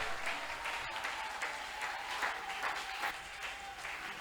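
A church congregation claps and cheers in steady, continuous applause that fills the room evenly at a moderate distance, with a faint sustained tone running underneath.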